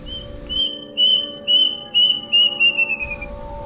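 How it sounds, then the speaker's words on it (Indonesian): Sharp, high whistled calls of a kedasi bird repeat about six times in a steady rhythm, each a clear piercing note that gets shorter toward the end, heard alone over a faint hum. "Tiba-tiba saja terdengar suara burung kedasi yang begitu tajam di telinganya."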